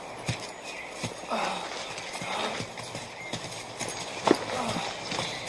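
Horses' hooves clip-clop on the ground in a western film scene. The footfalls come as irregular, moderately close thuds, with a brief whinny-like burst partway through and low rumbling background noise.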